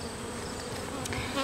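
Honey bees buzz steadily at an active hive, a continuous close droning hum with a few louder individual passes near the end, heard alone without talk.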